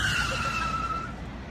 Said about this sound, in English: she jumps in fright to the screeching of car tires and a loud car horn